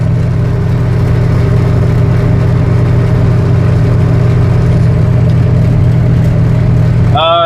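Steady drone of a fully loaded semi truck engine while driving into the Twin Cities, a loud continuous low rumble with road noise throughout, ending in a brief higher-pitched tonal sweep.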